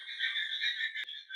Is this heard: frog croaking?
yes